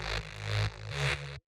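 Solo techno bass layer with respace processing: a low, buzzy bass line under a broad airy wash, pulsing in short rhythmic swells for about a second and a half before stopping dead.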